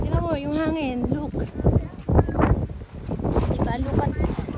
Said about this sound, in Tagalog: Ang lakas ng hangin. At ma-snow.